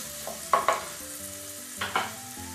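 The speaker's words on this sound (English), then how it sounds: "And we move that around and let that cook for about 2 to 3 minutes until they're a little bit softened." Diced carrots fry in sunflower oil in a pot, a soft steady sizzle broken by two bursts of stirring scrapes, close and clear with no talking.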